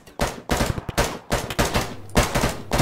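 Gunfire in a video game military operation against a bunker: several loud, close bursts of rapid shots in quick succession, separated by brief gaps, with no talk.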